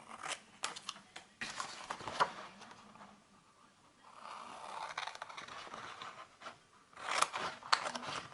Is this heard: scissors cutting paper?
yes